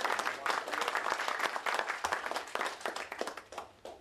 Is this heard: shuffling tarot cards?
no